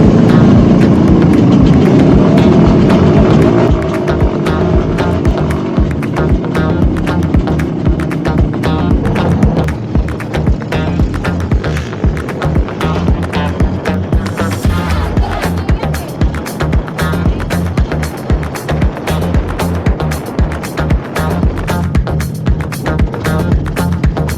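A Suzuki X4 motorcycle rumbles over a beginner's off-road trail, its engine drone and wind noise continuous and loud, with a rider's voice talking over the ride.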